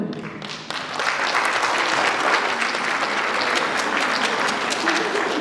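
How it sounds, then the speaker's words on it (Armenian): An audience at a solo concert breaks into sustained warm applause, a dense even wash of clapping from many hands that starts abruptly and carries on steadily throughout. "ևս մեկ անգամ ջերմ ծափահարում ենք"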